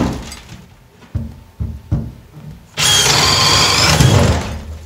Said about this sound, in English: I'm going to drill through each stud